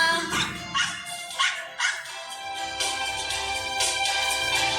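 A dog barks in a series of sharp, evenly spaced yips, four or five close, loud barks in the first two seconds, followed by a denser run of barking and whimpering tones.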